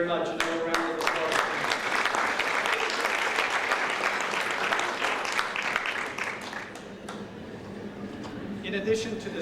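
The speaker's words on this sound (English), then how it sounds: "Another round of applause." Audience at an annual gala dinner claps steadily in a dense, continuous wash of applause, with individual sharp claps standing out near the front. Faint voices mix in toward the end.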